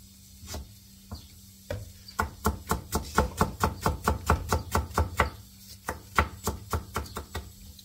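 An onion is chopped with a knife on a board, a steady run of close, crisp knocks in quick rhythm with a few short pauses, no talk over it.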